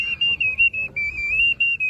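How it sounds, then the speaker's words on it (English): Visitors at the Teotihuacan ruins in Mexico blow whistles, producing a sustained shrill warbling tone in pulsing bursts, fairly loud and close, over faint outdoor background. "just one of many people blowing the whistles"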